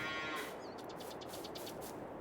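Holstein cows lowing in Farming Simulator 22, a few drawn-out moos in quick succession over steady barn ambience, close and fairly loud, with no talking.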